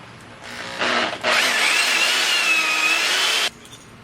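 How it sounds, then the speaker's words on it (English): A power drill bores out a threaded hole in a Schwinn Meridian trike, a loud close whirring burst of about three seconds with a brief stutter, then silence. "we're going to have to drill the back side out because it's threaded."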